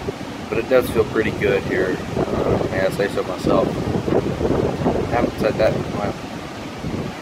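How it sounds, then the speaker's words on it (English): Strong wind buffets the microphone at an ocean beach near high tide, gusting roughly and continuously while someone talks over it. "So sorry about the wind. It's probably not going to be a high quality vlog because it's wind blowing"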